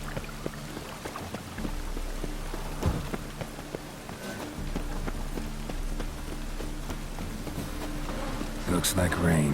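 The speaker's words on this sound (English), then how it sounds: "Looks like rain." Rain falls in The Witcher video game, a steady patter of drops on surfaces with scattered sharper splashes, running under the soundtrack and game audio throughout.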